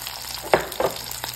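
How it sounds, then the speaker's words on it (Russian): Tomatoes and peppers fry in a pan with a steady low sizzle, broken by two sharper spits or stirring scrapes, close by with no talk. "И даем буквально минуточку помидорчику дойти на сковородочке."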